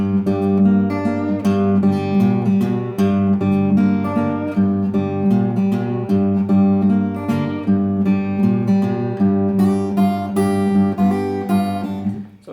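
The opening part of a song plays as a steady, rhythmic blues riff with a driving low bass line and repeated plucked chords, loud and continuous with no talk.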